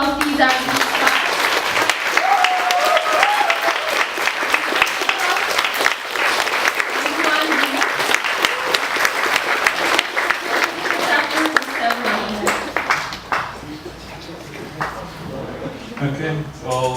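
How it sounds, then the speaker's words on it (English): A school audience breaks into loud, sustained applause that carries on for most of the stretch, with cheering and a speaking voice heard over it before the clapping thins out near the end. "let's give them a huge round of applause"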